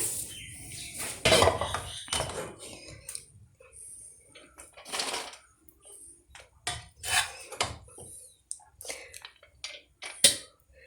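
Cooked rice being dished out with metal utensils, a series of irregular clinks, scrapes and taps against a pot and plate, close and moderately loud with quiet pauses between.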